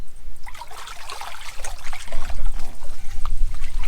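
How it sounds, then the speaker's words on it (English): Water trickles and gurgles steadily while filling a pipe for a siphon on a farm in Portugal, with splashy bubbling bursts growing busier toward the end; no voices. "fill the pipe up with water"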